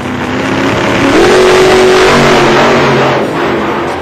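Motorcycles rev loudly on Delhi roads during a biker gang's street stunts, a dense, close engine roar with one rising pitch sweep over steady traffic noise.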